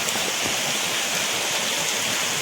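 Heavy monsoon rain pours in a dense, constant hiss at a waterfall, loud and unbroken throughout, with no voices.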